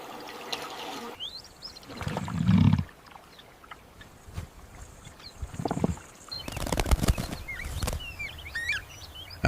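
A red-billed oxpecker gives dry rattling calls by a river, brief harsh bursts scattered among water sounds and other wildlife noise, moderately near and alone without talk.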